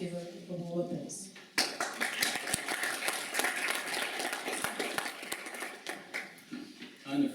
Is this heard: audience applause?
yes